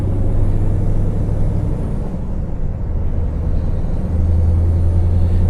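A lorry's diesel engine labouring up Berriedale Braes after a gear change, a loud low rumble that dips briefly in the middle and then returns as a strong steady drone.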